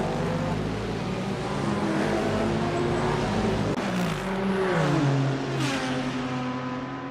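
GT3 race cars, including a Honda NSX, battling for position in a 24-hour Daytona racing video game: loud, continuous engine roar with rising and falling revs and gear changes as the cars pass close by.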